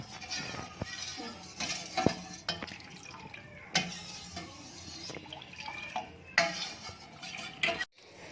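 Milk for matka malai kulfi simmers in a pot while a spoon stirs it steadily, scraping and clinking against the metal with a few sharper knocks over a soft bubbling background.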